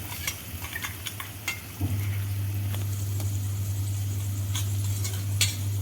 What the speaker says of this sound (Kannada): ಅದು ರುಬ್ಕೊಂಡಂಥ ಕೊಬ್ಬರಿ ಮತ್ತು ಕರಿಬೇವು ಏನು ಇದ್ರಲ್ಲ ಅದನ್ನ ಒಗ್ಗರಣೆ ಒಳಗೆ ಹಾಕೊಂಡ್ಬಿಡ್ಬೇಕು